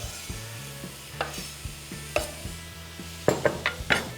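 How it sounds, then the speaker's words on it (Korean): Meat with cabbage and potatoes stir-fried in butter in a pan for a Korean sausage stew, giving repeated scraping stirs and soft sizzling, closest and loudest toward the end, with a low hum beneath. "고기만 살짝 볶아지고 야채하고 섞어주세요"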